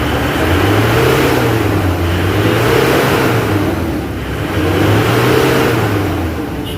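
An Isuzu Sportivo engine with throttle delay, vibration and low power revs up and settles twice in slow swells, loud and close, with no voices.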